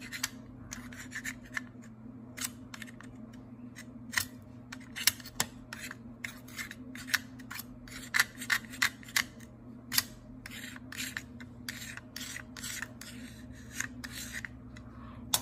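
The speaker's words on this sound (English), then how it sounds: "Then use your knife to kind of just do this, and that helps sand the edges and make the edges sharper and cooler." A knife scrapes along the edges of a wooden pencil, making quiet, close rasping strokes in an irregular rhythm over about fifteen seconds, with no talk.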